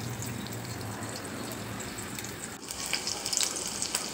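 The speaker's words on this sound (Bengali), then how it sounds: "বাকিগুলোকেও আমি এভাবে ভেজে নেব" Stuffed ash gourd leaves fry in a pan, a steady close sizzle and crackle of hot oil running throughout, with brief sharper spatters near the end.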